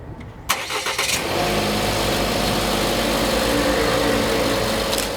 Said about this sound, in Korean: 이 B5는 드르륵 하고 아주 부드럽게 시동이 걸리기 시작해요